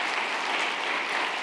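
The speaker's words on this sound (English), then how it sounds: "Please join me in a round of applause." At an eighth grade graduation ceremony, the crowd applauds in a continuous, even wash of clapping, heard from some distance at moderate level without speech.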